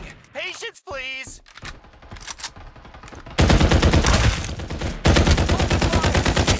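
Rapid automatic gunfire in the Farlight 84 battle royale game, dense bursts of loud shots that grow heavier after a brief opening with an electronic voice call.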